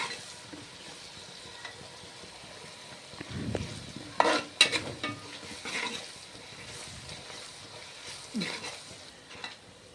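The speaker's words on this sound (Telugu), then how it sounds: "మొత్తాన్ని గరిటతో కలిగి పెడతా ఉండాలి" A ladle stirs a sizzling frying mixture in a pan after turmeric is added, with scraping and clinking strokes over a steady low sizzle, fairly quiet and close.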